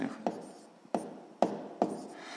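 Pen or pencil writing out a sixth-grade maths exercise by hand, heard as four sharp taps a little over half a second apart with soft scratching strokes between them, close and quiet.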